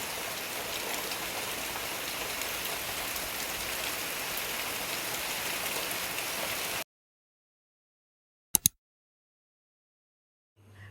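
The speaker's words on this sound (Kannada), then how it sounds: "ಎಷ್ಟು ಜೋರಾಗಿ ಮಳೆ" Heavy rain falls on a foggy morning as a dense, even hiss for about seven seconds, then cuts abruptly to silence broken by a single sharp click.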